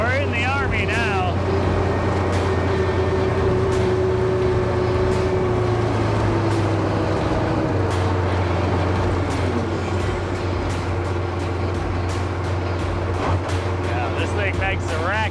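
A tank drives at Drive a Tank in Minnesota, its engine a loud, continuous droning rumble that stays steady throughout, with voices talking underneath the racket.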